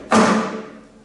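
A single flamenco golpe, a fingertip tap on the top of a guitar, lands as one close, full-bodied thump that rings and fades over about a second, with no voices.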